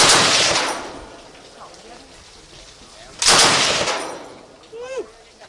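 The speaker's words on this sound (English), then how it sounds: "It is incredibly loud and powerful, with a maximum range of over 2 miles and a firing rate of 100 rounds per minute." A helicopter-mounted machine gun firing at the Cu Chi Tunnels. Two short, booming bursts several seconds apart are each followed by a rumbling echo, and voices are heard between them.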